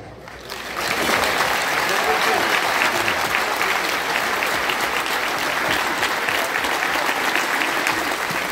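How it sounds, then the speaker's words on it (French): Loud, sustained applause from a large crowd at a retro/country festival at a campground, steady dense clapping rising quickly and continuing without a break. "je vous applaudis."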